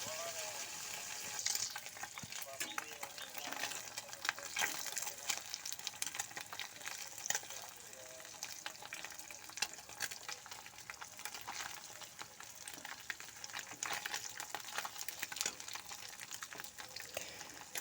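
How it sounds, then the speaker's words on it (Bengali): Fish frying in a pan gives a steady, dense sizzle and crackle throughout, with occasional brief stirring or turning noises close by and no talk. "তোমরা দেখতে থাকো এই মাছ ভাজা হচ্ছে"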